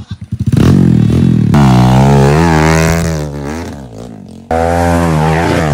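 An enduro dirt bike on a steep trail at RNG Trail in Binalonan, Pangasinan, sputters then revs hard and loud up close, its engine pitch rising and falling as it climbs, with an abrupt renewed burst near the end.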